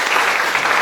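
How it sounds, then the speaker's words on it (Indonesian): Children in a classroom clap together in a dense, steady burst of applause that lasts under a second, filling the room evenly. "Tepuk tangan anak."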